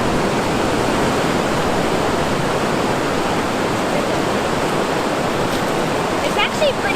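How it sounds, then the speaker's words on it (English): Ocean waves wash up onto a beach in Ecuador as the tide comes in, a continuous loud rushing hiss of surf close by, with a few faint voices near the end. "Oh no. Here comes the tide."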